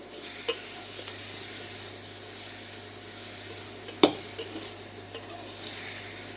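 Vegetables are stirred and fried in a pan on an induction cooker: a soft, steady sizzle runs throughout, with a few sharp scrapes and clinks from the spatula. No one speaks.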